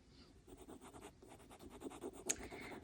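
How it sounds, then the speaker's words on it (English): A pencil lightly sketches cloud shapes on paper, giving faint, close scratchy strokes in short repeated bursts with one sharper tick near the end. "I'm going to be sketching in these clouds."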